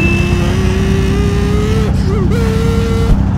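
A Kawasaki Z1000 motorcycle accelerates hard nearby, its loud engine tone climbing steadily, then briefly wavering and dropping at a gear change before continuing strong.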